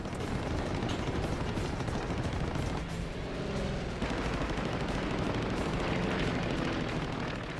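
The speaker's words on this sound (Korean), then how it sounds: "I had three in back of me who were firing at me." Fighter planes trade gunfire in night air combat, with continuous rattling bursts and booming reports over a thick roaring background, loud and sustained throughout, with no voices.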